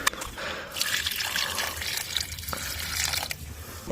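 Water poured onto potted aloe vera plants, a soft continuous trickling and splashing of liquid into soil lasting a few seconds, close and moderately quiet with no talk.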